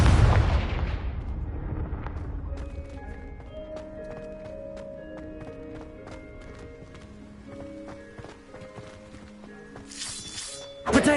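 Confringo spell explosion in Hogwarts Legacy: a heavy booming blast up front that decays into a long ringing, shimmering magical tail with scattered crackles, ending in a sharp bright burst.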